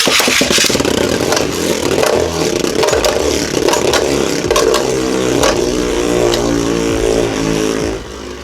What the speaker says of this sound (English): Test spin time. First Perfect Phoenix will be in normal mode. 3, 2, 1, let it.